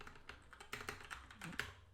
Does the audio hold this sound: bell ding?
no